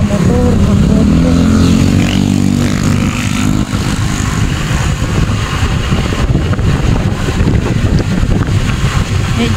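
Motorcycles pass along a rural roadside lined with solar-powered lamp posts, a rising and fading engine drone that sits under heavy wind buffeting and nearby talk.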